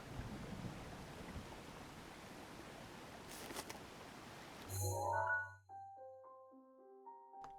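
Game thunderstorm in Zelda Breath of the Wild: steady rain hiss and rumble, a sharp thunder crack midway, then the storm cuts off for a burst of chiming game tones.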